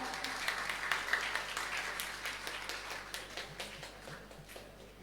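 Audience clapping for honoured twelfth-grade students at a high school graduation ceremony, a quiet, scattered patter of hands that thins out over a few seconds.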